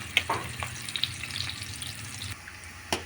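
Garlic and onion frying in a pan for ginisang mongo, a soft crackling sizzle with a few sharp utensil taps and scrapes, close and moderately loud, without voices.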